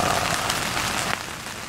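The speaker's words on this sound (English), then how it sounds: "It is raining right now, as you can hear." Rain falling steadily on a campsite in Michigan, a dense close hiss of drops pattering on surfaces with no voices.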